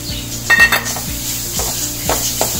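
Grated coconut being stirred into a vegetable stuffing for idiyappam levariya in a pan, with a sizzle under close scraping and clinking of a spoon against the metal pan, in short repeated strokes.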